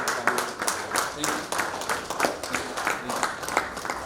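An audience applauding after a speech at an International Women's Day 2021 event, with a steady run of claps close by at moderate loudness, sounding alone without talk.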